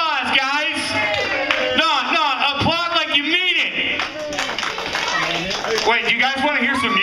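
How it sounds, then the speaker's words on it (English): An audience claps for a guitarist, with the applause mixed under loud whooping and shouting voices throughout. "Give him a round of applause, guys. No, applaud like you mean it."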